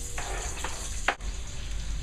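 Onions and a whole head of smashed garlic sizzle in a Lodge cast iron pan, a soft steady frying hiss with a few brief stirring clicks and scrapes.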